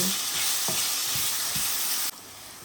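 Garlic paste fries in a pan with a loud, continuous sizzle and a few soft stirring knocks, then the hiss drops abruptly to a quieter level near the end.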